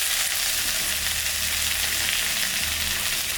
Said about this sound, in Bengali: সবজিটা ভাজা ভাজা হয়ে গেছে, এখন আমি মশলা দিয়ে দিই।